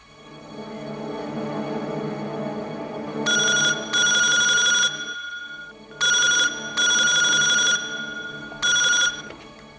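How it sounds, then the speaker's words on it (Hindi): A telephone bell rings in a Hindi suspense TV drama, sounding in five distinct bursts of shrill electronic trilling over a low music and ambience bed, each ring clear and close. "सर राधेश्याम का फोन है।"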